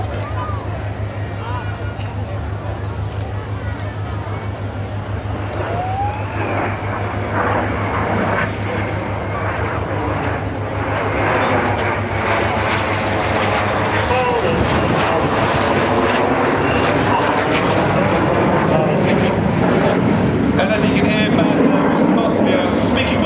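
Red Arrows display jets perform the mirror roll at the Biggin Hill air show in 2009, a steady, loud, wind-buffeted jet roar that swells over the middle of the clip, mixed with crowd babble and a commentator talking throughout.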